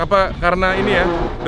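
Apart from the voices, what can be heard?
No distinct noise like a dog, phone or traffic.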